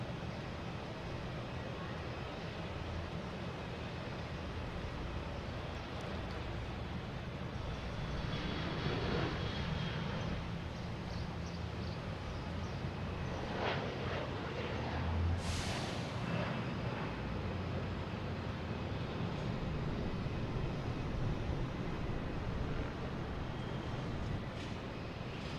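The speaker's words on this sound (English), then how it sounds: "next taking off, we have Delta heading to Columbus, the E175" A Delta Embraer E175 jet takes off from Boston Logan, a long, steady engine roar at a distance with occasional louder rumbling surges and hiss, with no voices.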